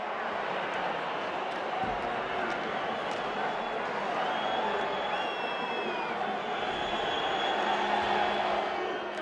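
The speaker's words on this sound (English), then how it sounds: "Inside the rink, the voice of the crowd rises and falls in waves" A large ice hockey crowd in an arena rink surges and roars, a continuous dense wall of cheering and chanting that swells and falls in waves, heard from within the stands, with a faint whistle tone drifting above.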